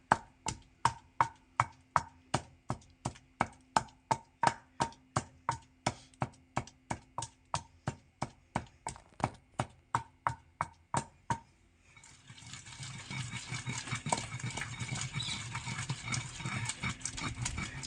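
Mint leaves and lemon being crushed and mixed by hand for a homemade lemon-mint drink, a steady run of sharp, evenly spaced pounding knocks, followed by a denser rough grinding and rustling noise.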